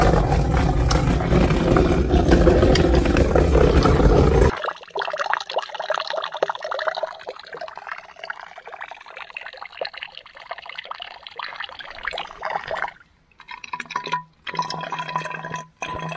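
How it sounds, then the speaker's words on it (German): Water pours and trickles into bottles being refilled outdoors on a mountain hike, first a loud rushing stream, then quieter gurgling fills and drips with pauses between bottles. "Wasserflaschen oder wie die heißen, schon wieder auffüllen"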